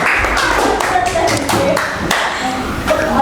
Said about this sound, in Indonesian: Tepuk tangannya untuk